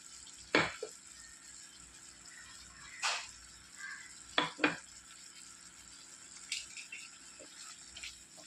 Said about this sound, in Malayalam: മുളകും മല്ലിയും കൂടെ തരിതരിപ്പോടെ പൊടിച്ച് വെച്ചിരുന്ന പൊടിയും കൂടെ ചേർത്ത് കൊടുക്കുക